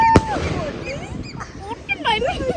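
A single sharp firecracker bang goes off near the start at a New Year celebration, followed by excited voices and chatter with a dog-like bark or call in the background.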